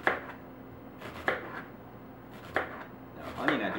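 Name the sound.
chopping an onion with a knife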